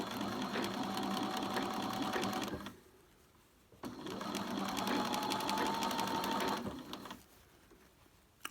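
A sewing machine stitches the seam of a beret in two bursts of rapid, rhythmic needle clatter, each a few seconds long, separated by a short quiet pause, close and fairly soft.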